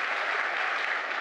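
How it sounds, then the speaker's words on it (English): Steady applause from a conference audience for a speaker named Dave, continuous and even with no voices standing out. "let's do a big round of applause for Dave"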